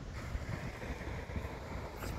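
Cool morning wind gusting steadily at Loch Sport beach beside Lake Victoria, a soft continuous rush buffeting the microphone with no voices present.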